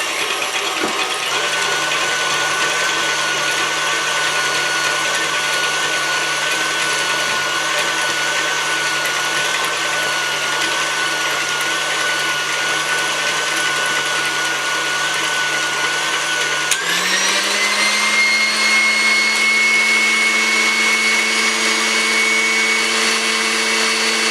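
Electric mixer beating banana bread batter until light and fluffy, a steady loud motor whir with rattling that holds without pause, then shifts slightly higher in pitch partway through.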